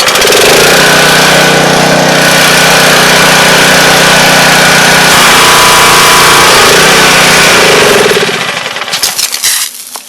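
A Predator small engine, just back from a carburetor cleaning, runs loud and steady at close range with a harsh mechanical roar, then sputters and dies away near the end.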